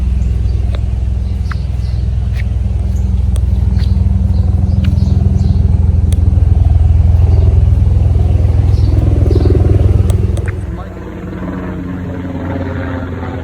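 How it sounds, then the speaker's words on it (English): Helicopters flying overhead a backyard garden make a loud, steady low rotor drone that swells and holds for about ten seconds, then drops away abruptly to a quieter hum. "It's the helicopters."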